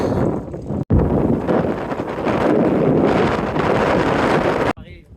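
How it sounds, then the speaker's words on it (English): Strong wind buffets the microphone in a loud, continuous roar, with gusts surging and easing before it abruptly cuts off. "So windy today."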